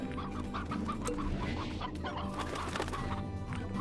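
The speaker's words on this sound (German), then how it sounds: "So, die Hühner dürft ihr ruhig fressen, Jungs" Chickens clucking in the video game Slime Rancher, repeated short clucks from several fowl over a constant low game background hum and music, moderately loud with no talk.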